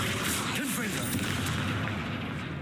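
Confringo blasting spell explosion from the Hogwarts Legacy video game, inside a tomb: dense, loud rumbling blast with crackling debris and booming low end, continuous throughout with no talking.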